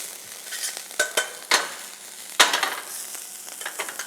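Vegetables and rice noodles sizzle in a small frying pan on a home stove, with a steady hiss broken by several sharp stirring scrapes and pops, close and alone.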